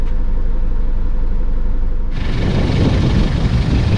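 Cummins 4.5 litre diesel engine of an Anadolu Isuzu Grand Toro coach, a loud steady low rumble at idle that swells into a harsher, broader roar partway through, with no talk over it.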